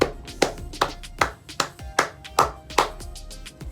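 Hands clap in a steady run of about ten sharp, evenly spaced claps, close and fairly loud, with no talking over them.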